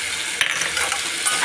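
Carrots and meat stir-fried in a pan sizzle steadily, broken by a sharp utensil clack against the pan partway through, close and fairly loud.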